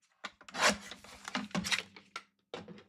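Cardstock being trimmed for handmade Christmas card making, a run of short scraping, rubbing strokes with brief pauses between them, close and fairly quiet, with no talking.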